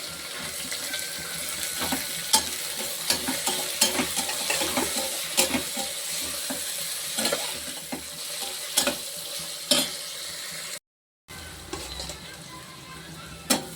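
Beans and carrots sauté in a pan for a Samba wheat rava khichdi, giving a steady sizzle with stirring scrapes and clinks throughout, briefly cut off near the end before resuming.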